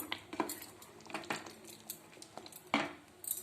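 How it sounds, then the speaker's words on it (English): Spoon stirring curd into a partly cooked mutton roast in a metal pot, giving a run of light, irregular metallic clinks and scrapes close by, with no voices. "I added 3 tablespoons curd and stirred nicely"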